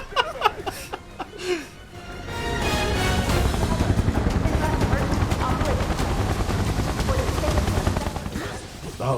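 A helicopter in Final Fantasy 7 Remake whirs as a continuous loud drone under gunfire and game effects. Sharp clicks and bangs come first, then the steady roar holds to the end.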